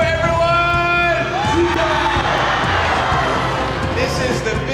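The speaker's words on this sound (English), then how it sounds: "This is the biggest crowd we've had in Vietnam!" A huge stadium crowd of about 35,000 people in Vietnam cheers and whoops loudly and continuously, with shouts rising out of the roar.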